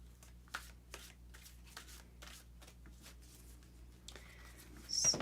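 Cat wisdom oracle cards being shuffled by hand, a quiet, close run of soft riffles and light slaps in an uneven rhythm, with a brief brighter rustle at the end and no talk.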